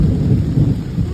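Thunder during heavy rain in the Konkan region: a loud, deep, rolling rumble that fills the whole short moment, with rain noise blended underneath.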